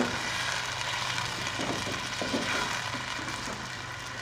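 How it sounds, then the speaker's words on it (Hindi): Blended green chili masala being fried in a pot for beef yakhni pulao, giving a steady, continuous sizzle and crackle at moderate level, with no talk. "इस मसाले को भी साथ में अच्छे से भूनेंगे"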